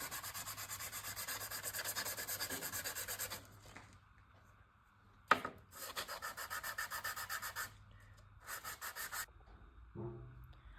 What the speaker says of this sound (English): So I'm going to take the sandpaper and just rub it on like this.